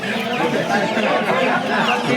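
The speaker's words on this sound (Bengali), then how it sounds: "দেশি মুরগি, এখানে সব দেশি মুরগি বেশি" Native desi chickens cluck in a dense, steady din at a market, many birds close together with voices blended into the noise.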